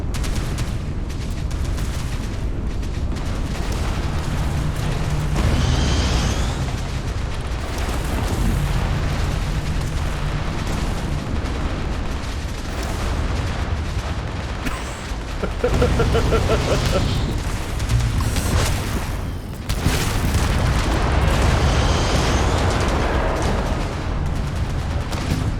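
Firefight in the space game Starfield: booming explosions and bursts of gunfire roll over a dense, continuous battle rumble, with a voice speaking at times in between.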